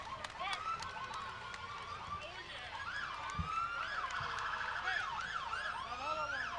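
A volunteer ambulance's siren wails in rising and falling sweeps as it passes in a town parade, fairly loud over a busy street crowd, with people talking in the background.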